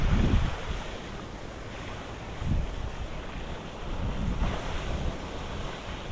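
Gusty wind beside a river during winter grayling fishing roars and buffets the microphone in a constant broad rush, swelling in stronger gusts.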